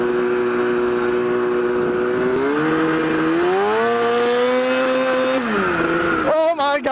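Snowmobile-engine go-kart driving on the street with a loud, steady engine drone that rises and falls as it accelerates, then a sudden sputter and rev change as it spins out.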